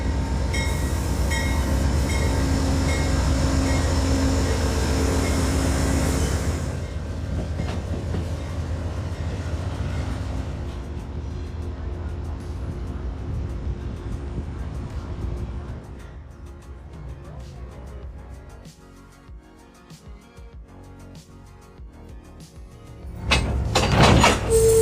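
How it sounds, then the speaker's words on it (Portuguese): An Amtrak Lake Shore Limited train rumbles loudly at close range as its Boston section couples to the front, then quiets to a low rattle and hum of railcars, with a sharp metallic clank near the end. "Nossa metade de Boston então avança, acoplando-se à frente do trem para formar o Lakeshore Limited completo."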